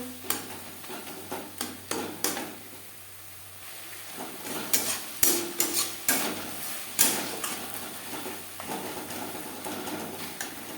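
A spoon mixes onion, tomato, turmeric and salt in a pan, with irregular clacking, scraping strokes over a faint sizzle and low background hum, some strokes louder and sharper than others.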